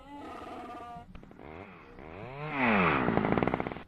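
Voice-made Chewbacca-style growl imitating a chainsaw on a sports talk show, a rising, revving guttural roar that swells louder toward the end, with no words spoken.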